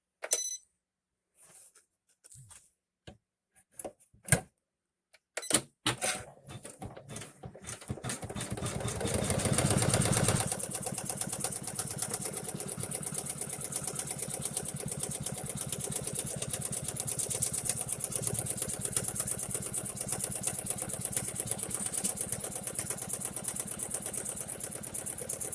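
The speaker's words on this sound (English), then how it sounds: "it's going to stitch the outline of the wallet" An embroidery machine stitches the outline of an owl wallet, starting with scattered clicks and taps, then settling into a steady, rapid mechanical whirring hum that runs on continuously, close and even.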